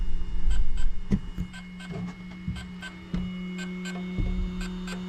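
A Hobbywing XRotor X6 hexacopter drone motor gives off a repeating electronic signal tone, a sequence of short beeps in a steady rhythm over a low hum, close and moderately loud, with no talk.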